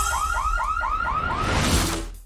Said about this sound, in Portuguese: O quê? Um alarme?